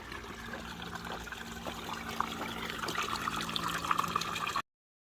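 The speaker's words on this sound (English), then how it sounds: "So now I'm getting water" Water collected from a spring at the end of a trail trickles and dribbles continuously at close range, faint and steady, growing slightly fuller before cutting off abruptly near the end.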